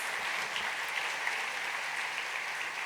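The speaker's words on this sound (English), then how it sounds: "A bigger round of applause, please," Steady applause from a large crowd, even and sustained throughout at a moderate distance.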